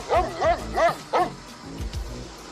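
Dog in the 1985 film Fletch barking several times in quick succession, loud and close, then trailing into softer whimpering yips.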